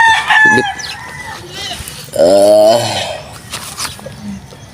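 Chickens cluck close by at feeding time while a rooster lets out one loud, drawn-out crow midway, surrounded by scattered clucks and squawks.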